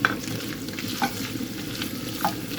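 Onions and peppers sizzling in hot oil in a pan, a steady close fry with occasional stirring scrapes.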